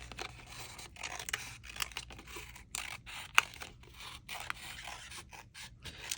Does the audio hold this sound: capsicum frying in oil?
no